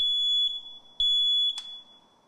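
A smoke alarm gives a sequence of loud, piercing high-pitched beeps, with a short break partway through, before fading away.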